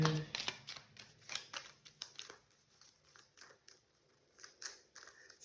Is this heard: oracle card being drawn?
yes